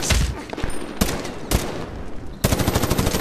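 Rapid automatic gunfire from the video game Medal of Honor Warfighter, loud bursts with sharp onsets near 1, 1.5 and 2.5 seconds, the last a fast rattling volley.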